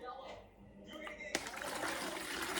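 Water pours into a large bucket as a homemade fabric softener is mixed, starting as a faint trickle and turning into a steady, fairly loud splashing stream that continues to the end.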